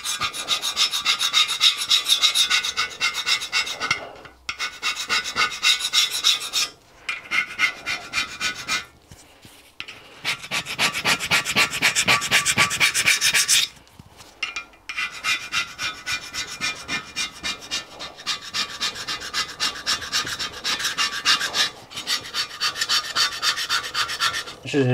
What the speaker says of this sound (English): This is an interesting scrape. That's actually an old file, and somebody's brazed a carbide tip on the end of it